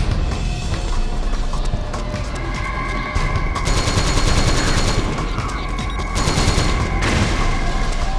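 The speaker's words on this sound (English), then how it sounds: "I don't know even where you are shooting at me." Heavy gunfire in Metal Gear Solid 4, a dense, loud fusillade of rapid shots and bursts running continuously with a few louder surges.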